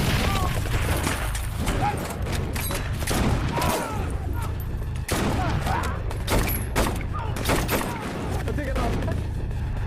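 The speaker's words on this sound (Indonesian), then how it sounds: "Aksi baku tembak pun terjadi antara Granvik dan Ed melawan pihak musuh." Gunfire crackles through a film shootout as soldiers trade shots with enemy troops, loud repeated bursts and single cracks with booms layered over a dense battle background.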